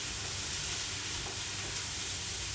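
Onions frying in a pan for chili con carne, a steady close-up sizzle with a constant bright hiss and faint crackle, no talking.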